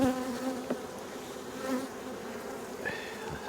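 Honeybees buzzing around an open hive during an inspection, a close, steady hum with individual bees passing by, fairly quiet.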